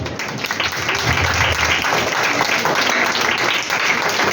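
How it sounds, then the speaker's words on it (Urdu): Women in a church congregation clap together in a sustained, even burst of applause that fills the room, loud and continuous, with faint crowd murmur beneath. "ذرا عورتیں اپنے لیے تالیاں بجائیں۔"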